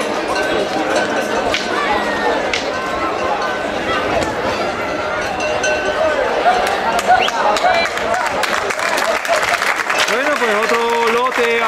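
A crowd applauds and cheers at a morning bull run in a Spanish town, continuous clapping and chatter mixed with a loudspeaker voice and scattered shouts.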